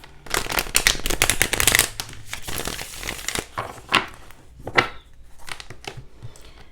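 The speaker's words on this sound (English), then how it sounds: "let's shuffle, split the deck" Tarot cards are shuffled in quick riffling bursts, crisp and close, with a few louder snaps and pauses between rounds.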